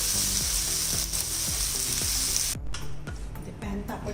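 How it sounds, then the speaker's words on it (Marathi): Paneer tikka pieces fry in a hot pan with oil, giving a loud steady sizzle. A spoon stirs and scrapes against the metal in regular strokes, and the hiss drops away sharply near the end. "जरा ढवळून सगळं व्यवस्थित असं फ्राय करून घ्यायचं"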